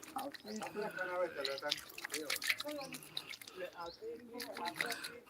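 Water drips and splashes as hands are washed outdoors, soft trickling sounds running beneath steady conversation, with faint bird chirps now and then.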